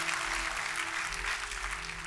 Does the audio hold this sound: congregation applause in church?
yes